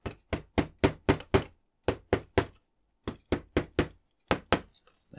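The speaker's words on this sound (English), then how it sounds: "I think I'm going to use my hammer just to help." Hammer tapping Agora Models RMS Titanic model parts into place, heard as a run of sharp, close knocks in quick bursts of four or five, with short pauses between groups.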